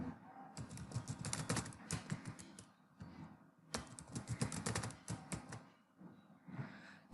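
Password being typed on a computer keyboard, two fast close bursts of crisp key clicks separated by a brief pause, then a few lighter taps at the end.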